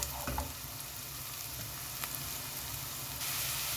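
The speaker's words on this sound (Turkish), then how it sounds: "Kavrulmuş olan soğanlarımın içerisine mercimeğimi ilave ediyorum." Steady sizzling of red lentils and onions frying in hot oil for lentil soup, with a few faint stirring scrapes; the hiss gets slightly louder near the end.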